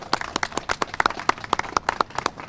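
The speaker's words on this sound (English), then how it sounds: "Would you please give them all a warm welcome and round of applause." An audience gives a round of applause to welcome a new group of fire recruits in Harrisburg, with fairly close, steady clapping from a modest crowd over a few seconds.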